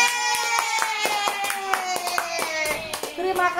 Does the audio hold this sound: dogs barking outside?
no